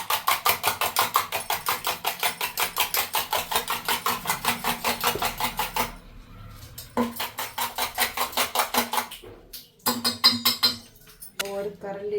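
Eggs being beaten hard with a wire whisk in a bowl for a bread omelette, a fast steady rattling clatter that runs for several seconds, stops, then resumes in shorter bursts.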